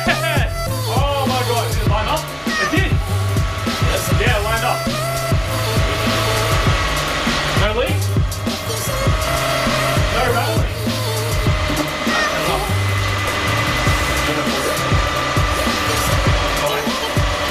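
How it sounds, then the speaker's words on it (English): An old Toyota Camry engine cranks and runs after repair work, a steady, loud idle with rhythmic mechanical pulsing and some clattering, heard up close throughout. "we're just gonna try to start it as is"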